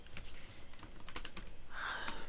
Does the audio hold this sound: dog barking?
no